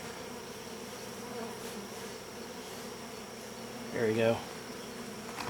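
Bees crawl over fresh white wax comb in a hybrid beehive, giving a soft, steady hum throughout. A person speaks briefly near the end.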